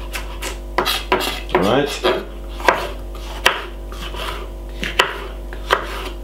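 Knife chopping spring onion on a cutting board for a summer tuna salad: a series of crisp, close knocks against the board at an uneven rhythm, with a scraping sweep midway and a brief spoken remark at the start.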